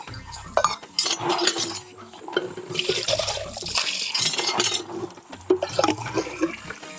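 Water splashes and pours loudly and close at hand, in surging gushes with some clinking, over a low background hum.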